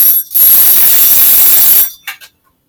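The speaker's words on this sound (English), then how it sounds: "So first thing I need to do is set my egg timer." A kitchen egg timer being set gives a loud, harsh ringing burst that lasts about a second and a half, then two short quick rings before silence.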